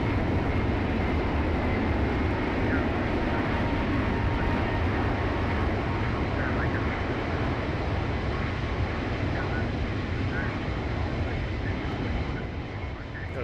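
A loud, constant broadband engine roar from an airliner in the X-Plane flight simulator game, a dense steady rumble filling the whole stretch without letup.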